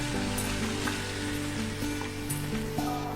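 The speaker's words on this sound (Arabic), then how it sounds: "اهي طشه التوم اهي" Garlic tadka sizzling hard in hot fat for an Upper Egyptian okra and lentil dish, a dense steady crackle close up, with tonal music playing underneath.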